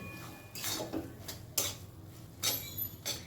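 Ginger and bottle gourd being stirred together in a pan, heard as a few sharp scraping clinks of a utensil against the pan at an uneven pace, close but fairly quiet.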